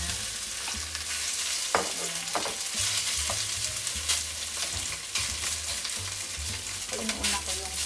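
Cooked rice tipped into a hot pan at home and stir-fried, a steady loud sizzle throughout with repeated scraping and clanking of a utensil against the pan, no talking.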